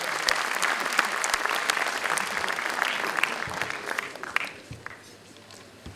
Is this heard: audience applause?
yes